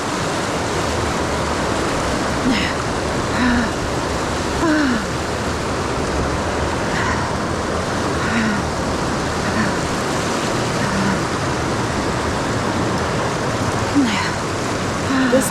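A strong stream current rushes past during a river crossing on a gravel bikepacking race in the Ozarks, a dense steady wash of water with occasional faint splashes and thin high sounds over it.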